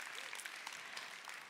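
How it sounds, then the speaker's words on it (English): A conference audience applauds at a live-streamed sourcing event, a steady wash of clapping hands sustained and even throughout, with no voices over it. "So a round of applause to all of you for everything you do every day."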